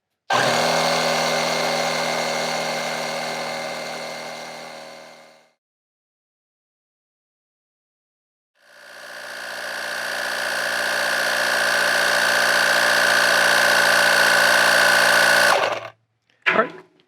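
A small portable tire inflator pump runs loud and close, giving a steady buzzing drone that stops, stays silent for a few seconds, then starts again and runs on before cutting off with a brief burst.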